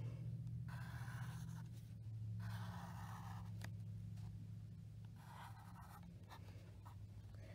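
Pencil drawing triangles on paper, quiet scratchy strokes in several short bursts, close but faint, over a low steady hum.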